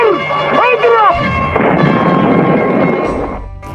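A loud Ramadan cannon blast booms close by, trailed by a rumbling roll of noise over a couple of seconds, with a voice heard briefly at the start.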